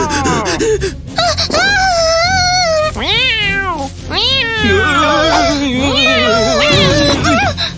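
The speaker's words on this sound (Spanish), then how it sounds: "¡Lindo gatito! ¡Buen gatito!" Cat meowing repeatedly in drawn-out, rising and falling cries, several distinct meows close and loud, with a gasp and some voice mixed in between.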